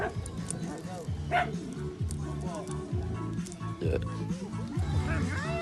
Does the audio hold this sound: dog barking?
yes